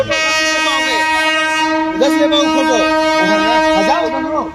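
A train, the Ziyarat Express, at Dildarnagar railway station in India sounds a loud, sustained horn blast close by, with voices calling out over it.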